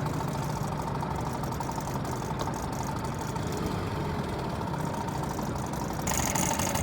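A 1980 Chrysler Sea King 15 horsepower outboard motor idles steadily after starting, a continuous buzzing drone held at even volume, rising slightly in the final second.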